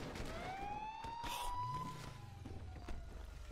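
Police car siren in the video game GTA 5, a wailing tone rising and falling over a low engine rumble, moderately loud and without speech.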